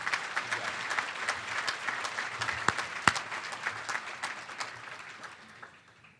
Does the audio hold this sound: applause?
yes